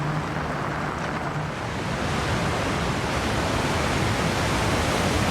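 A waterfall in the Forza Horizon racing game pours as a steady, dense roar of rushing water that holds unbroken throughout.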